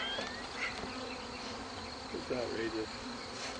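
Honey bees from a package being installed in a hive drone in a steady, close hum that fills the background, with a brief voice heard over it.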